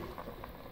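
A pot of fish head curry bubbles and simmers steadily up close, a soft continuous burble of boiling liquid with no voices.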